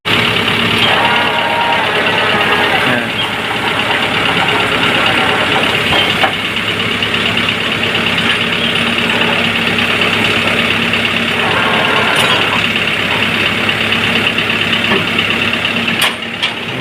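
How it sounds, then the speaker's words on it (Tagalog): A freshly overhauled 8DC11 diesel truck engine runs loudly and steadily up close, a constant rumbling idle with faint clanks and knocks throughout. "papaanda rin po muna natin yung makina"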